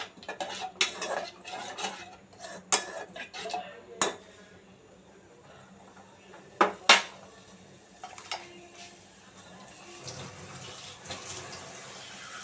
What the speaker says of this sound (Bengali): এবার আমি কষিয়ে নেব।